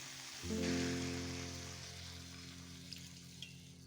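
A little hot water is poured into a pan of cooking pumpkin greens and stems. A sudden hiss and bubbling erupts, then slowly fades, with a couple of faint pops near the end.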